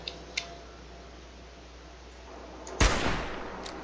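A single loud, close gunshot from the video game Fallout 4 cracks out near the end and then dies away, after a few faint clicks over quiet background hum.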